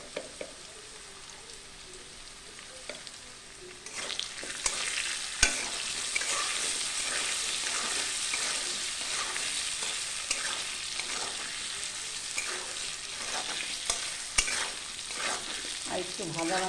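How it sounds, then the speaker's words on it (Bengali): Potatoes fry in a pan on low heat with salt and turmeric for a vegetarian pointed-gourd and rice dish, a quiet start giving way to steady crackling sizzle with scraping stirs throughout. "আলুগুলো ভাজা ভাজা হয়ে গেছে"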